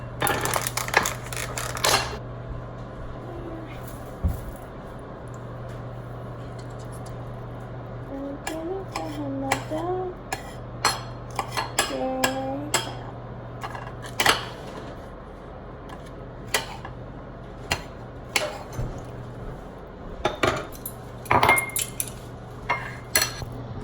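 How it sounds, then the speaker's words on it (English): Metal cutlery clinks and taps against dishes while berries are cut for breakfast, scattered sharp clicks and scrapes at close range over a steady low hum, with a few faint vocal sounds in the middle. "I'm gonna cut some berries and like some peanut butter."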